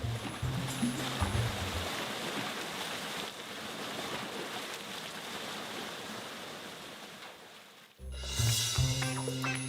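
Clean water pours down from above into a wide bath, making a continuous soft splashing rush that is faint and even, with a brief break and a clatter near the end.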